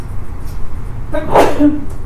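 A single sharp sneeze bursts out near the microphone against a low background hum, followed by a brief trailing tone.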